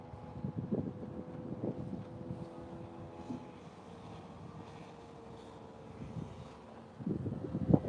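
Wind gusts buffeting a fishing boat out flounder fishing off North Carolina, a steady low rumble with louder bursts near the start and end, no voices.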